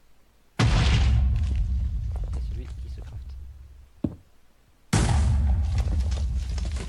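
Explosions in the Minecraft Dalek Mod video game: two loud broadband blasts with long rumbling decay, plus a brief sharp pop between them, with a voice talking over the game audio.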